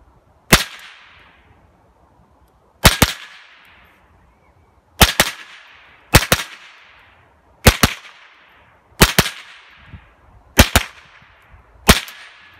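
Eight sharp cracks from a Ruger 10/22 Takedown small-calibre rifle fired outdoors, each a crisp loud report with a short decaying echo, spaced one to two seconds apart.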